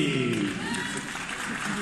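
Crowd at a kickboxing event applauding and cheering a fighter, a continuous roar of clapping and voices filling a large hall.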